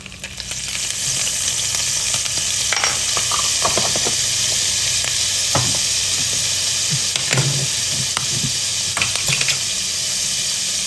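Ginger goes into a hot pan of pepper steak, giving a steady, close sizzle and hiss of frying with a few faint clinks and stirring scrapes, no voices.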